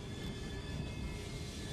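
A train runs in the Assassin's Creed Syndicate video game, heard as a faint, continuous rumbling rail drone with a steady thin whine above it and no break.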